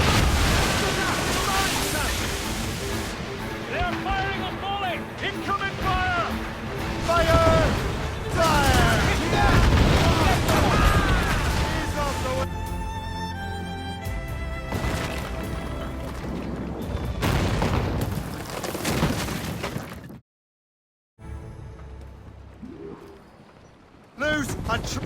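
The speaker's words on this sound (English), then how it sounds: "They're firing a volley! Incoming fire!" Naval cannon volleys in the Assassin's Creed Rogue game, heavy booming blasts rolling over ocean surf and creaking ship sounds, with shouted crew voices mixed in; near the end a brief silence precedes another hit.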